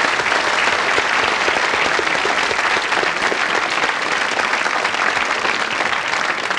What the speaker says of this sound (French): je voudrais un applaudissement pour Firmin Bouglione